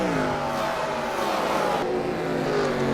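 NASCAR stock cars in the NASCAR Racing 2003 video game, mid-race, a steady loud engine drone with shifting pitch as cars run close together.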